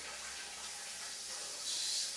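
Faint, steady rush of running shower water, a continuous soft hiss that swells slightly toward the end.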